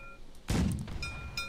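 A cannon shot strikes in The Last Leviathan, a naval combat game with a ship built from rum barrels, giving one loud, deep thud with a broad crash that fades into rumbling ambience.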